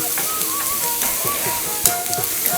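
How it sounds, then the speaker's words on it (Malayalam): Green chillies sauté in coconut oil in a Kerala kitchen, a steady close crackling sizzle with faint stirring clinks and one sharper knock near the end, no talk. "പച്ചമുളക് നന്നായി വഴണ്ടി വന്നു"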